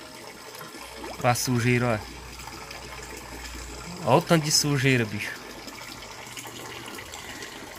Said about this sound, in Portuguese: eu vou dar uma descarga d'água. Quero tirar bastante dessa água